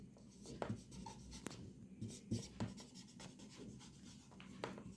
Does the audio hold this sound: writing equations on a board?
yes